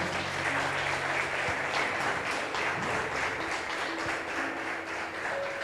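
A church congregation claps for the Lord in a continuous, dense round of applause that stays loud and even, with faint sustained tones underneath.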